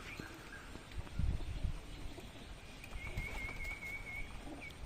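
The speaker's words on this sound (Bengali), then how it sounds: "আর এই পায়রাগুলো খেতে দিতে হবে, খাওয়ার জন্য উৎসুক হয়ে গেছে।" Pigeons waiting eagerly for food give faint, low cooing sounds, mixed with soft rustling and a thin whistling tone against a quiet, breezy background.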